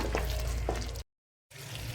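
Hyderabad-style veg kurma simmering in a pan on a low flame until the oil rises: a soft, steady bubbling sizzle with faint pops, broken by a brief moment of silence.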